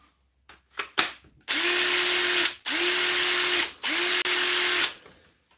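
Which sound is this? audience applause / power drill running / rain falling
power drill running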